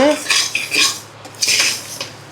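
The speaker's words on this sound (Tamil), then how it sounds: "அரிசியை நல்லா வறுத்து" Dry rice roasting in a pan for a homemade festival sweet, stirred with a metal spoon that scrapes and clinks against the pan in several short, close bursts, with no talking.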